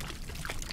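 Water pouring from a bottle in a video game, a brief soft gurgling trickle lasting under a second, quiet and close.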